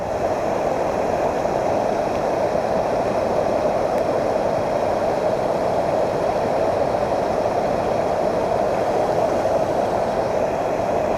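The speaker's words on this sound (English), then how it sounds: "How cool, at the base of a waterfall." Water churning at the base of a waterfall, a steady, dense roar that stays loud and unbroken throughout with no voices.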